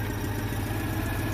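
A Citroen 2CV's small engine idles evenly after its carburetor mixture has been adjusted, giving a steady, close low burble with no voices.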